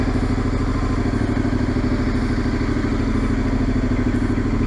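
A fuel-injected midsize motorcycle engine idles nearby with a steady, throbbing low beat and light mechanical clatter, running evenly without revving.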